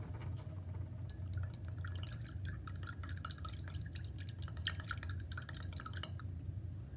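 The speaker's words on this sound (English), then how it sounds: "We could also take the calcium hydroxide and put it in water." Calcium hydroxide being stirred into water in glassware gives a quiet, continuous clinking and trickling, with rapid light taps of a stirrer against glass running throughout over a soft background hum.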